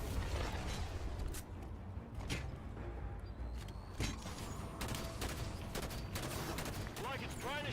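Quiet bursts of gunfire and single shots in Halo 5: Guardians on Legendary difficulty come in quick irregular volleys, along with clicks and mechanical game effects.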